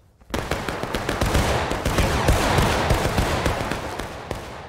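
A musket volley in the Civil War game War of Rights: after a short silence a massed crash of rifle fire breaks out, then crackles on as a dense, ragged spray of overlapping shots, loud and close.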